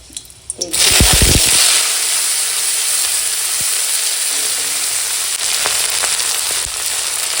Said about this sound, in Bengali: এই যে কড়াই তেল দিয়ে দিয়েছি আর এখানে দুটো শুকনো লঙ্কা এরকম ফাটিয়ে দিয়ে দিলাম